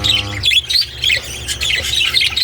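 A pair of pet TCB parakeets calls with harsh squawks and bright chirps, close and fairly loud, in a continuous chattering stretch.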